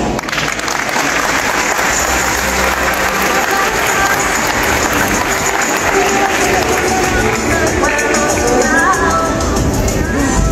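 Sustained applause from an audience at a ceremony handing over a sports court in San José, Villa del Rosario, loud and continuous throughout with crowd noise and some cheering mixed in.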